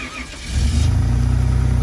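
A BMW car engine cranks briefly in -10°C cold, then catches within about half a second and settles into a loud, steady, close idle rumble.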